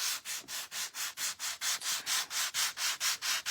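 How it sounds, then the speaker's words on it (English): Wood sanded gently along the grain by hand, a steady series of about fifteen even back-and-forth abrasive strokes, close and fairly loud, with no talking. "So what we're going to do is I'm going to sand it. Sorry, loud noise one more time."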